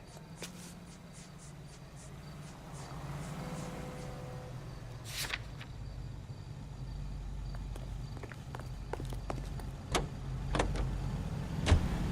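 A car drives through the L.A. Noire game world, with a steady engine rumble and road noise building gradually, broken by scattered clicks and bumps and one sharp burst midway, with no voices.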